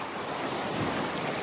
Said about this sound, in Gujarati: આમ જો મોજા આવેલા